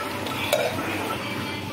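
A spoon stirs lumps of jaggery into moong dal payasam in a pot, a soft close scraping and swishing with one faint metallic clink.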